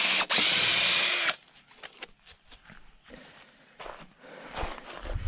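A power drill drives GRK screws into a timber rafter during post-and-beam barn framing: a loud, close whirring burst lasts over a second, then quieter knocks, footsteps and handling noises follow.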